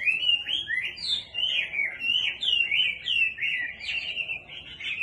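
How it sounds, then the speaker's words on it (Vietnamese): A Chinese hwamei songbird sings loudly and close by, a continuous run of shifting, warbling phrases with quick pitch changes and brief pauses, heard on its own. "nó hót và đảo giọng nghe rất là hay, hót tối ngày sáng đêm"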